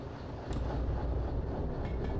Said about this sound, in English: So I need to push my train back a little bit.